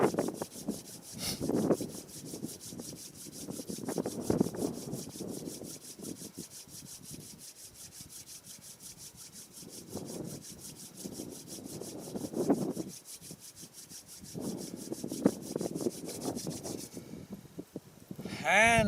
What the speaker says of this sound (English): And rub your palms.